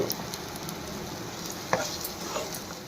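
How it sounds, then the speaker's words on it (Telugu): Masala paste for an okra and egg curry sizzles steadily in a pan, a soft continuous fry with light stirring scrapes and one brief clink, no voices. "ఇప్పుడు దీన్ని బాగా మనం ఫ్రై చేసుకోవాలి. అంటే పేస్ట్ బాగా వేగాలి."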